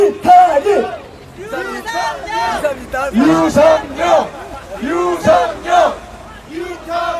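A campaign rally crowd for a candidate in Dongjak, Seoul, shouts and chants in loud rhythmic bursts, with many voices rising and falling together.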